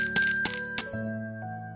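A bright bell rings three quick times, then a lower sustained chime tone holds and steps once, close and clear.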